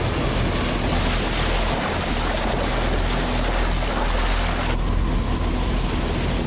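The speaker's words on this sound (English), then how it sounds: "Gigantic tidal waves caused devastation all over the Earth." Turbulent ocean water surges and gushes from a vast sea impact crater as gigantic tidal waves form, a loud, steady roar of churning surf and wind-like rush that fills the whole stretch without pause, with no voices.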